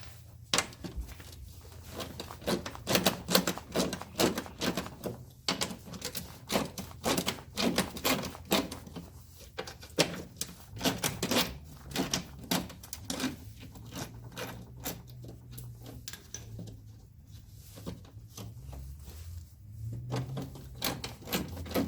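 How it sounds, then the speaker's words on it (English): Bolts being removed from the scraper blade of a Troy-bilt Squall 21-inch snow blower, heard as a close, irregular run of sharp metallic clicks, ratchet ticks and knocks that continues for over twenty seconds. "So I'm going to take out these bolts, and flip that around."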